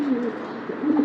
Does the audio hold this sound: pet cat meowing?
no